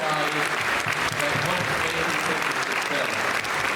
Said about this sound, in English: give a big round of applause for everybody that